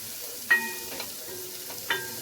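Dal tempering with sambar masala and chilli powder sautéed in a pan gives a soft, steady sizzle, with three sharp metallic spoon clinks as it is stirred, and no voices.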